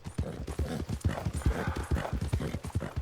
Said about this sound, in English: I'm just pushing this horse.